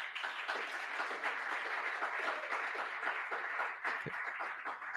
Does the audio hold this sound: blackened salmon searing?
no